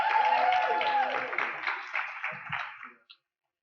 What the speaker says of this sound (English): a round of applause, please, for Callum Clark, who's inside government,